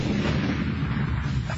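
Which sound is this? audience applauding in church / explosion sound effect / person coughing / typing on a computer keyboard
explosion sound effect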